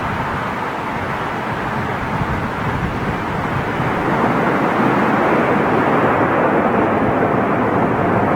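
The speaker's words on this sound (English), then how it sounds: "Listen out for the reversers." An airliner lands at London Heathrow in stormy, strong wind, with a loud, continuous roar of reverse thrust building slightly and wind buffeting the microphone.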